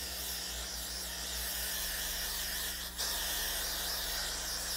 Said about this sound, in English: now we are gonna go over this with the Freeze Blast spray